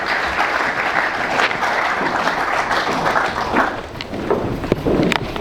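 An audience gives sustained applause for a state minister of gender, family and children at a public gathering: dense, loud clapping from many people that holds steady and then thins slightly toward the end.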